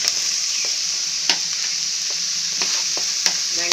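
Onions sizzle steadily in hot oil in a pan while a crab gravy is cooked, a constant bright frying hiss broken by a few soft stirring clicks, close and alone with no voices.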